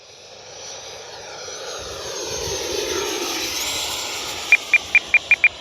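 FMS 80mm F-86 Sabre RC jet, a ducted-fan model flying with drop tanks at half throttle, gives a steady rising whoosh and hiss that swells and holds, ending in a few sharp regular ticks near the end.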